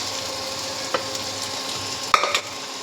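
Boiled moong dal goes into a pan of fried rohu fish, bringing a steady low sizzle of frying with a couple of sharp clanks and scrapes of a spoon against the pan.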